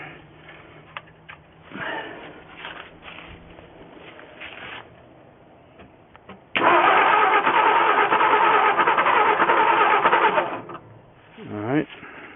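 Ford F350 engine starting for the first time in 20 years on choke, cranking and sputtering briefly before catching into a loud, rough, steady run for several seconds and then dying away, with people talking through the quieter parts.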